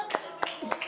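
Several sharp hand claps ring out in a loose rhythm at a children's camp game, three or four distinct claps within a second, close and fairly crisp, with a voice faintly underneath.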